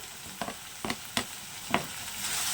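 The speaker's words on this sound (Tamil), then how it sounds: "அதை சேர்த்து நல்லா பரட்டி விட்டுருங்க. நல்லா வதங்கட்டும்." Large, finely chopped tomatoes frying in a pan, sizzling steadily while a spoon scrapes through them in four distinct stirring strokes, close and fairly quiet, with no voices.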